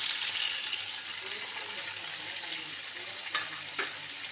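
Onions and tomatoes fry in oil as the base for a mushroom curry, giving a soft, even sizzle with a few faint clinks, close and steady with no talk.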